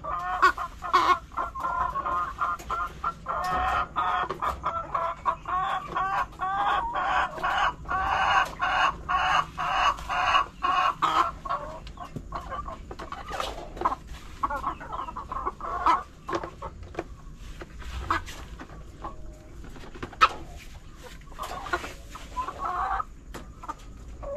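A flock of hens clucks and cackles continuously, a busy chorus of close and distant calls with occasional louder squawks and no talking.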